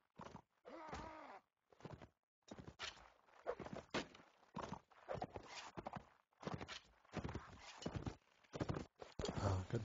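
Horse hooves clip-clop in a competitive strategy video game tournament match, rhythmic hoof knocks repeating in short bursts with brief gaps, fairly close and moderately loud, alongside occasional groan-like game effects.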